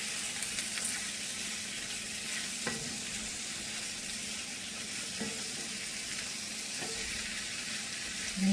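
Green beans stir-fry in a pan over high flame, giving a steady, close sizzle with occasional scraping stirs of a utensil against the pan.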